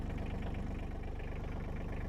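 A tractor engine idles while driving a post hole auger outdoors, producing a steady, loud, low rhythmic chugging hum with no talk over it.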